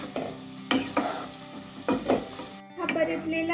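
Onion and tomato sautéing in oil in a hot pan for a dhaba-style mushroom masala gravy: a close, steady sizzle broken by several sharp spatula scrapes and stirs, no talking.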